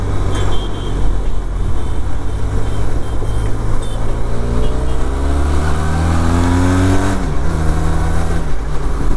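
A 2021 Benelli TRK 502 BS4 motorcycle engine accelerates with a loud, close roar, its pitch climbing steadily through the gears with dips at each shift, under constant wind rush.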